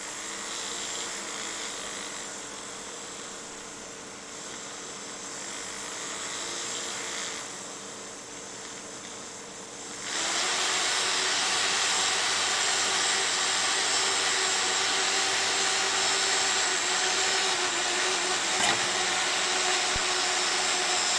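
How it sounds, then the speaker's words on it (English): A fischertechnik model propeller spins slowly under its small electric motor, giving a steady whirring hum that grows noticeably louder and brighter partway through and then runs on evenly to the end. "the propeller speed is very slow now"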